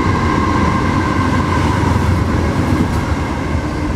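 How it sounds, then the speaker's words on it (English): A Norfolk Southern freight train rumbles past steadily, a dense, loud roar of wheels and rail noise with a faint tonal hum, no voices. "We have a train coming."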